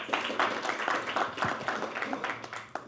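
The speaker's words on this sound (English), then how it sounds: "Let's give a round of applause." Seminar audience giving a round of applause, a brief burst of scattered hand clapping from a moderately sized crowd, somewhat distant and fading quickly.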